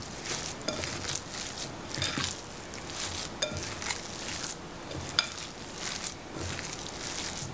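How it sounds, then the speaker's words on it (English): Meatball mixture being stirred and worked in a bowl, soft wet squelching and scraping strokes in an uneven rhythm, fairly close and quiet with no talk. "I'm gonna give that a good mix."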